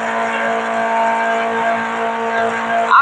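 A lowered Chevette in the Rebaixados Elite Brasil driving game gives a steady, loud simulated engine drone that holds one pitch throughout, with a brief tire-like chirp near the end.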